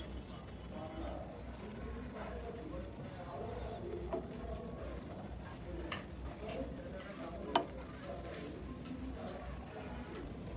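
Spices mixed into beef brain in a pan make a steady, close stirring and scraping sound over a low sizzle, with one sharp click of the utensil partway through.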